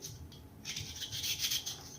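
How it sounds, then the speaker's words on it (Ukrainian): A knife scraping and slicing through potatoes, cutting them into cubes in a steady run of short rasping strokes, close up, with no talking. "Ріжемо картоплю і ставимо її варити на вогонь"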